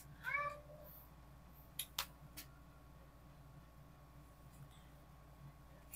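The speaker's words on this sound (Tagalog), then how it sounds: "sensya na kayo guys sa pusa ko ha." A pet cat meows a few times near the start, its calls rising and falling close by, followed by a couple of sharp clicks over a quiet indoor room with a low steady hum.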